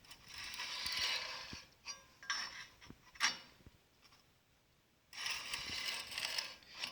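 A grinder runs in bursts as a knife blade is fed along the platen with a grinding jig, a bright hissing scrape rising and falling, with mechanical clicks and a quieter gap midway before grinding resumes.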